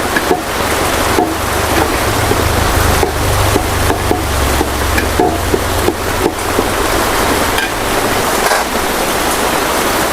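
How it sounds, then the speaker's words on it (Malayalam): Heavy rain pours steadily, a dense broadband hiss with scattered louder splatters and a low rumble underneath, continuous and close throughout with no talking. "എന്താ അത് ശക്തിയിൽ മഴ പെയ്യുന്നത്"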